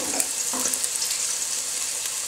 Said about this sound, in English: Put the onion in the pan,